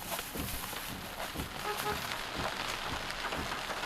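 Heavy rain falls in Jamaica, a steady dense hiss of drops on surfaces with scattered sharper patters, loud and continuous throughout with no one speaking.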